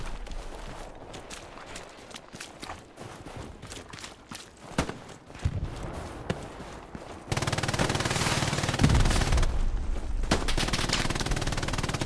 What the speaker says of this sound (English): MG action over to the right, though, from JT.